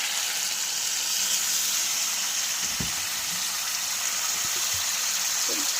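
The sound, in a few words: water poured into the frying fish pan, sizzling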